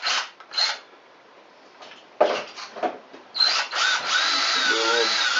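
A power drill pre-drills small holes for pipe clamps meant for electrical or plumbing work while building a kids' swing from a 2x4, running in short close bursts with a longer steady whine near the end.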